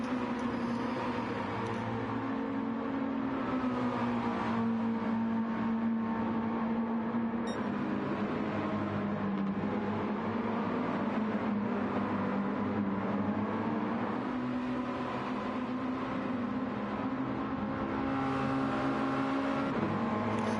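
Mazda MX-5 race cars in a sim racing game hold a continuous droning engine tone, the pitch rising and dipping slightly with throttle as they run at speed without letup.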